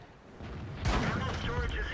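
Tank cannon shot in World of Tanks striking the ammo rack: a single sudden heavy blast with a rumbling tail, rising out of quieter background noise, with a voice faintly beneath.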